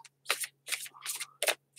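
Oracle cards being shuffled in several quick riffling bursts with short pauses between, crisp and close, over a faint low hum.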